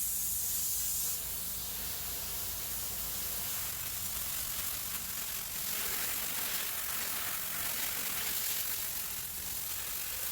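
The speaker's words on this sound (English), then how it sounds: "Now we're going to spray it with some water" Steady hissing spray of water onto a stripped wooden camel back sea chest runs continuously at close range, a broad rushing sound with no voices.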